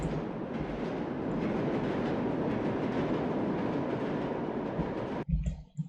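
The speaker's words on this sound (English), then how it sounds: "The train pulled into the station" A train rolls into a station platform with a loud, continuous rumble and rattling of wheels on track, then cuts off abruptly near the end, with no voices.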